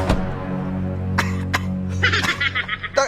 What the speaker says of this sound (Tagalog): Tignan mo, inuubo ka na sa katarantaduhan mo.